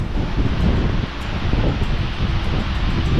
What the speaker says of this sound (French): Il y a beaucoup de vent aujourd'hui tout de même.